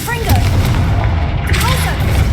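Confringo blasting spell in Hogwarts Legacy: loud, booming magical blasts with crackling bursts and swooping whistles, over a heavy rumbling low end, with a voice briefly audible.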